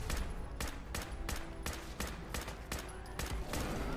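Video game gunfire from Fallout 4: evenly spaced heavy shots, about eight or nine in four seconds, each a sharp crack over a constant rumbling background, loud and close.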